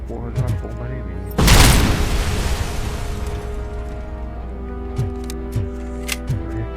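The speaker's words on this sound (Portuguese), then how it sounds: "O cara jogou a porra de uma bomba em mim." Bomb explosion in the video game RoboCop: Rogue City, a loud broadband blast that swells suddenly and rumbles for a second or two before fading, set against steady game music with a few light clicks afterward.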